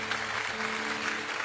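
A church congregation applauds during a Christmas Eve service, a brief dense wash of clapping hands, steady and fairly distant, with faint musical tones sustained underneath.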